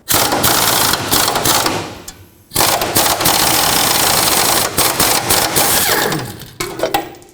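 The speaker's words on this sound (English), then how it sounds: "With an 18mm socket, I'm going to sneak up in here and remove this nut" A rapid, loud rattling burst from a power impact tool spins off an 18mm control arm nut on a 2005-2010 Pontiac G6 rear suspension. It runs in long stretches with brief pauses between them and has no talking.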